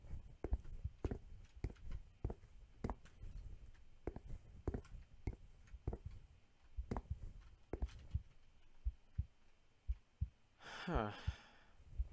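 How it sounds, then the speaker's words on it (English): A steady heartbeat thumps at low volume in a game scene, the soft paired beats repeating evenly throughout, followed near the end by a brief breathy gasp. "Why in the world is my heart beating?"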